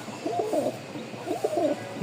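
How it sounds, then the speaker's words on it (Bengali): Rajgolla pigeons, a flying breed kept for sale, cooing nearby in two quick rolling bursts of low throaty calls over faint room noise. "প্রতিটা কবুতরের ডাক আছে"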